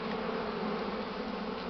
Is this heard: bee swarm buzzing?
yes